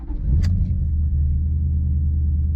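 Toyota 1UZ-FE V8 in a BMW E36 coupe starting up for the first time in the day, a brief starter burst then a deep, loud, steady low rumble as the engine settles into idle.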